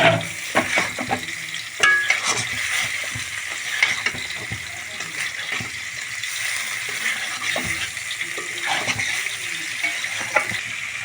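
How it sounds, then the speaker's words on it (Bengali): Rui fish pieces are stirred and fried with spices in a pan, giving a continuous close sizzle with scraping and knocking from the spoon throughout. "মাছগুলোও দিয়ে দেবো, দিয়ে মশলার সঙ্গে হালকা করে নেড়ে চেড়ে নেব।"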